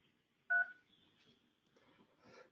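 A single short telephone keypad DTMF tone sounds as a menu option is pressed on an automated support line, brief and fairly clear, followed by faint murmuring background noise.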